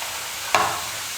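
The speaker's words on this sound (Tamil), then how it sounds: "எண்ணெயில் போட்டு ஒரு 30 செகண்ட் கழித்து நீங்கள் கரண்டி வச்சு கலந்து விட்டிங்கன்னா தனித்தனியாக வந்துடும்" Potato chips, cut long for bakery-style crisps, sizzle in hot oil with a steady hiss, broken by one short, sharp scrape as a ladle stirs them, then the frying continues without talk.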